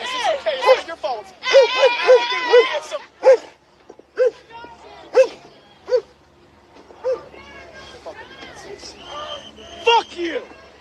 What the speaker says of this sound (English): they brought out dogs in the K9 truck, it looks like, too. You can hear them barking.